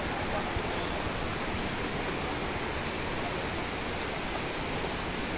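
Taytay Falls waterfall in Majayjay, Laguna: a loud, steady, full-band roar of falling water that continues without a break from start to finish, with no other sound standing out above it.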